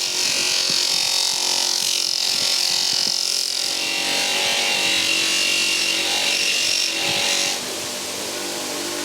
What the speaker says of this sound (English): But now we can really test the polishing wheel